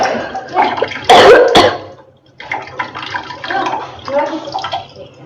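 Water poured slowly off soaked bajra (millet) batter, leaving the settled white starch below, gives a soft splashing trickle in two bursts with a brief louder slosh, close by amid faint background voices.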